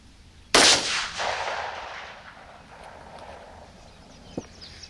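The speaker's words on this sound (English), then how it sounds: "We'll shoot it again and see how close that is." A single sharp gunshot cracks close by while a red dot sight is sighted in outdoors, its echo rolling away over a few seconds before a faint knock near the end.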